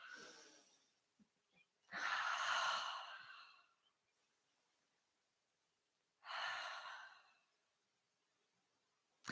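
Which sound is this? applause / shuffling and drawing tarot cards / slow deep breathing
slow deep breathing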